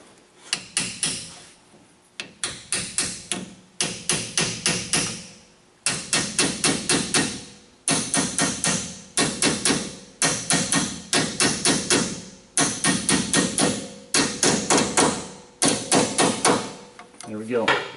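Repeated hammer blows drive a rear axle seal into its bore on a 2005 Ford F-150, sharp metallic knocks in quick bursts of several strikes with short pauses between them.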